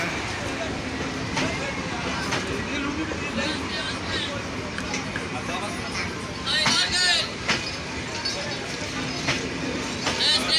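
The Titumir train passes on the rails near a crossing in Nilphamari, a continuous loud rumble and clatter of wheels throughout, with sharper metallic squeals and bursts toward the end.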